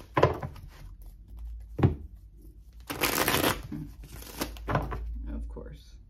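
Tarot cards are shuffled in a few short, crisp riffling bursts, close by and fairly quiet, with a voice speaking softly between them.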